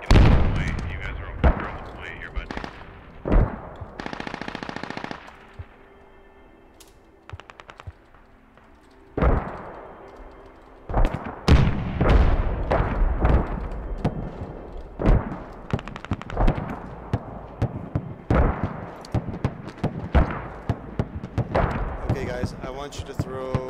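Mortar rounds landing in the video game Squad on a Fallujah map, a series of heavy booms and sharp impacts scattered across the clip, some near and loud, others farther off, with people talking over the radio between the blasts.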